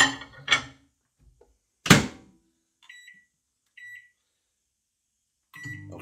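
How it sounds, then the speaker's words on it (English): A microwave oven being set to heat a macaroni pie, with a door clunk, several short electronic keypad beeps spaced apart and the hum of the oven starting at the end. "And then microwave with this bad boy for 3 minutes."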